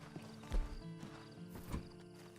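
Horse hooves in Red Dead Redemption 2: a few soft, scattered clip-clops at a moderate distance, two heavier thuds standing out over quiet game ambience, with no voices.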